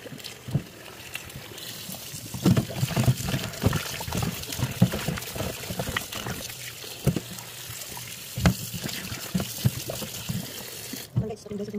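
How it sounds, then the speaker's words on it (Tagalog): Chicken feet and gizzard rinsed under cold running tap water, a continuous trickle and splash with sharp knocks and sloshes as the pieces are handled; someone talks over it. "hugasan natin ng malamig na tubig"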